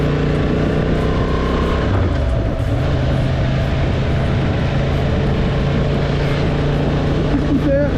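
A Honda Hornet motorcycle rides on the road, its engine a steady, continuous drone with wind and road noise throughout.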